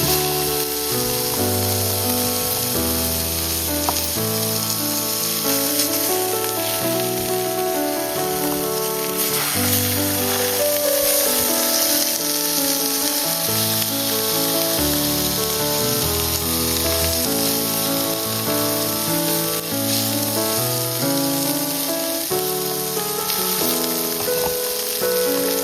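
Salmon pieces fry in a pan with a steady, continuous sizzle that runs under background music the whole time.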